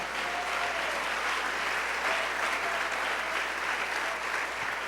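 A dense church congregation claps steadily and enthusiastically, a continuous wash of applause at even loudness from start to finish.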